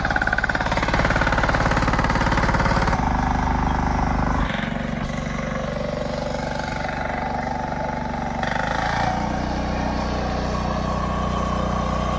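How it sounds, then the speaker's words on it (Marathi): A power tiller engine chugs steadily and loudly throughout on a farm, a continuous close-up mechanical drone whose pitch shifts slightly partway through. "हा छोटा ट्रॅक्टर आहे म्हणजे पॉवर टिलर हा काम एक नंबर करतो"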